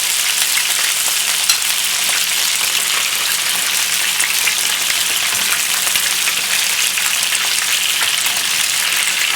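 Marinated chicken sizzles and fries in hot oil in a pan, a loud, close, steady crackling hiss that continues without a break and with no voices over it.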